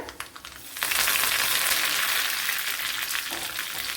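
Mustard seeds and cut dried chilli fry in a tablespoon of hot coconut oil, giving a sudden burst of loud, close sizzling and crackling that holds steady after a quieter start.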